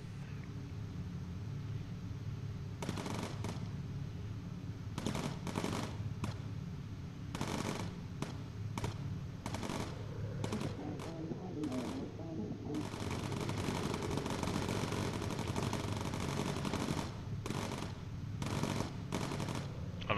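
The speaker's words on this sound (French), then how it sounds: "Mais c'est quoi ces tirs?" Rapid bursts of machine-gun fire in the bomber video game Bomber Crew, repeated short volleys over a constant engine drone, with someone talking in French between them.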